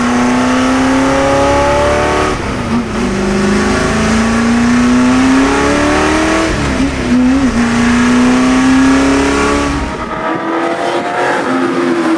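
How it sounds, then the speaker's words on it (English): A 1966 Ford GT40 continuation race car engine revs loud and close, pitch climbing through gear changes and dropping briefly before rising again, alone without voices. "This is pure, on hands, manual, throw it around, race car."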